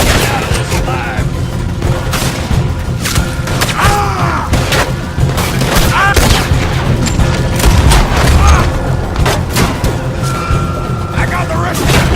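Gunfire and booming shots crack through a chaotic Red Dead Redemption 2 shootout, with repeated loud bursts layered over shouting voices and heavy low rumble throughout.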